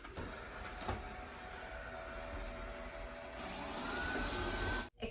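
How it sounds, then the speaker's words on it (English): A robot vacuum running in smart cleaning mode indoors, a steady close whirring motor drone with a rising pitch partway through, then a sudden cut near the end. "So now that I have my robot vacuum, I can just say, Alexa, turn robot on. Smart cleaning mode."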